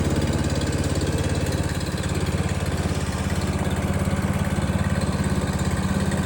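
A Honda HSS1332A hydrostatic snowblower engine runs at a steady low idle with throttle on slow, a continuous close, even rumble and chug with no talking.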